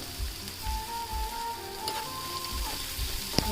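Curry leaves and chopped mushroom ingredients sizzle steadily in hot oil in a pan, a close continuous frying hiss with a few light stirring knocks.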